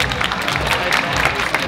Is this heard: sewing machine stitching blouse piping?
no